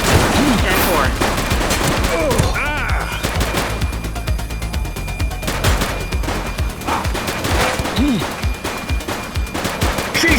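A suspect firing in The Precinct, dense continuous automatic gunfire crackling loudly throughout, with repeated sharp shots layered over sirens and shouted voices.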